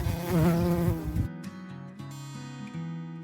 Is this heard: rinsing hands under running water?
no